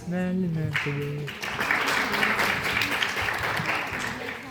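At a children's day celebration, an audience breaks into sustained, dense applause after a brief spoken announcement, the clapping filling the hall at a steady level.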